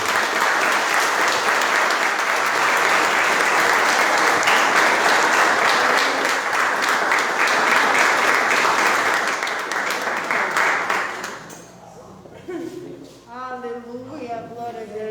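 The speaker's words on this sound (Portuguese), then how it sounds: "As palmas louvam o nome do Senhor." A congregation applauds loudly and steadily during a church worship service, the dense clapping filling the room for about eleven seconds before dropping away as a voice speaks over the fading sound.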